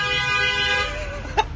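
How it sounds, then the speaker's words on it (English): A short car horn honk rings out on a city street at lunchtime, rising briefly near the end over steady traffic rumble and a layer of background street noise. "there's definitely like 5 or 7 honks every single day I walk here"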